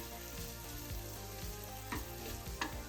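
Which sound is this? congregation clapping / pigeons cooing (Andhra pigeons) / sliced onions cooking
sliced onions cooking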